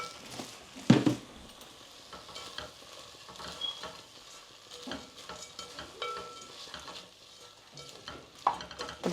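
Masala and sev being stirred in a frying pan for sev tameta shaak, scraping strokes over a soft sizzle with a louder clatter near the start and scattered utensil scrapes throughout, no voices.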